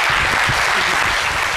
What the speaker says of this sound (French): Docteur Philo, qu'on applaudit très fort